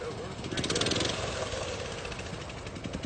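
A homemade go-kart built for about $100 runs fast, its small engine putting out a close, loud, rapid pulsing rattle with people talking over it.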